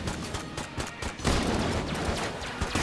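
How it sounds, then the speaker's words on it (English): Dense, rapid gunfire from the video game Enter the Gungeon during a boss fight crackles in continuous bursts, loud and close, growing thicker partway through. "Watch out! Tons of bullets!"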